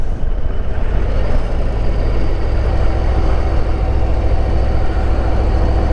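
Harley-Davidson Road Glide ST with a 117 engine and stock exhaust, a 2022 touring motorcycle, runs with a steady, deep, throaty rumble that stays loud and close throughout, with no voices.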